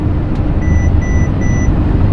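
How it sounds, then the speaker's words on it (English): Three short lane-assist warning beeps in an even rhythm, heard inside a moving 2020 Winnebago Revel Sprinter 4x4 van over steady road and engine rumble. "So it beeps like that when you're kind of swaying over to one side or the other."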